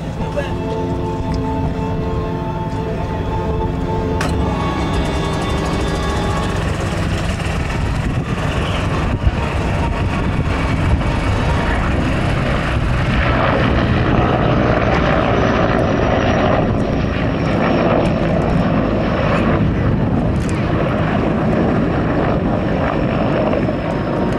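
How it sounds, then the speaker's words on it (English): Mi-24 Hind attack helicopter making a missile and rocket pass at an air force base show, its heavy rotor and turbine roar loud and steady throughout, with an announcer talking over it. "Now we have a missile/rocket pass of the Mi-24 Hind."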